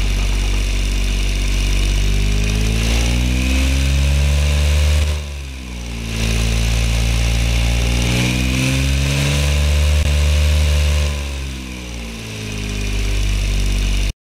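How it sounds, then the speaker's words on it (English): A car engine in the video game Automation: a steady drone with harmonic tones that rise and fall as it revs up and eases back, loud and close with no talking. "give you a hear to what this engine sounds like right now."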